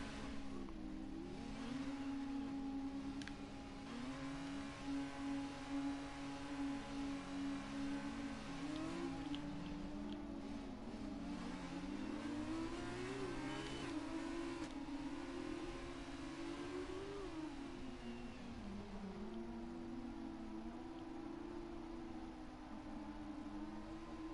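Race cars in a racing video game drive out of the pit lane, their engines droning and whining steadily with shifting pitch throughout, with no talking.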